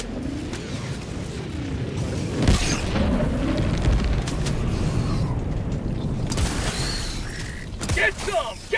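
Heavy 500kg bomb blasts in the co-op shooter Helldivers 2, a deep booming impact with a rumbling tail followed by further muffled booms and crackling battle noise, with voices talking underneath throughout.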